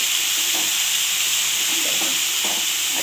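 Garlic frying in a pan for a dry cabbage and chickpea dish, with a loud, continuous close sizzle and occasional stirring scrapes.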